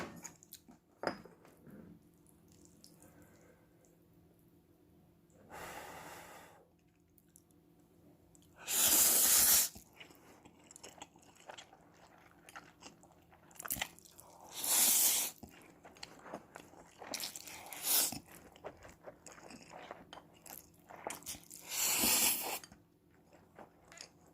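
One person eats a meal outdoors after shore fishing, chewing and biting food with intermittent crunchy, squishy bursts close to the microphone, separated by quiet pauses over about twenty-four seconds.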